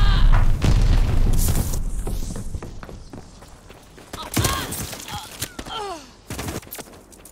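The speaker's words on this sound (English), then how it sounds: "Throwing a sticky bomb!" A sticky bomb goes off in Call of Duty Vanguard, a loud low boom at the start, then scattered gunfire, footsteps and further blasts through a noisy firefight.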